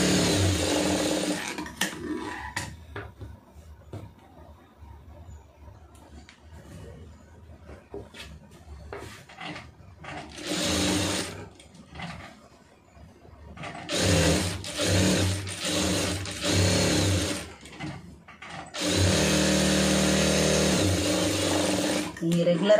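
A sewing machine stitching the lining of a blouse, bursts of rapid mechanical whirring that start and stop several times, with a person speaking in the quiet pauses between runs.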